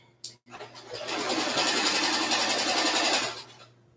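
A sewing machine stitches fabric for a slip, starting with a short click, then running in a steady, close, whirring rattle of rapid needle strokes for about two seconds before slowing to a stop.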